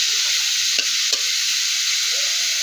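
Bitter gourd and small potatoes fry in hot oil, giving a steady, loud sizzle throughout, broken by two brief clatters of stirring near the start.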